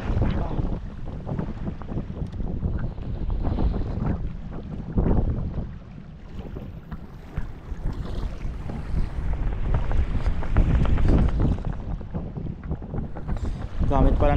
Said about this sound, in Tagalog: Ayun po, mahangin.